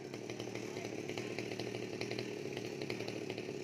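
A chainsaw cuts down a very tall, fifty-year-old coconut tree next to a house, its engine droning steadily and somewhat distant, with no one talking.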